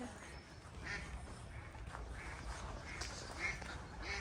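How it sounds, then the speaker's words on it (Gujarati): Ducks quack in a kindergarten garden during a morning walk, a few short calls rising over a steady outdoor background hum, moderately distant with no talk. "અહીંયા બતક લાગે અવાજ કરે છે."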